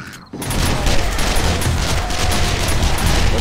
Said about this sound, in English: Thank goodness the shotgun turrets are working,